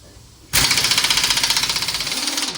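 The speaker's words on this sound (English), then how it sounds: "we've got the 3/4 inch impact from 1920, and we have the special tool to hold the crank, stop it from spinning" A 3/4-inch impact wrench hammers loose an engine crank bolt on a junkyard K-series engine, starting abruptly and rattling in a loud, rapid burst of regular impacts that runs steadily to the end.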